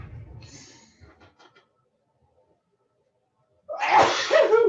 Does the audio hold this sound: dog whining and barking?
no